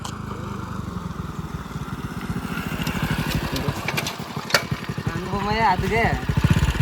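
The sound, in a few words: motorcycle engine running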